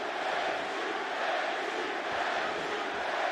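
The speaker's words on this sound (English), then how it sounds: "Pro Gaethje crowd being heard from early." An arena crowd at a UFC 300 fight between Gaethje and Chandler roars and cheers for Gaethje in a continuous, dense wash of distant voices with no pauses.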